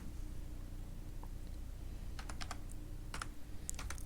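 Someone types text on a computer keyboard, a quick irregular run of soft key clicks in the second half over a low steady hum, with no speech.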